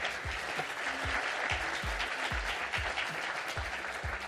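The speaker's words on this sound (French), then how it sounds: "on peut l'applaudir effectivement" Steady applause from a crowd, a continuous patter of clapping at moderate distance with a few low thumps underneath.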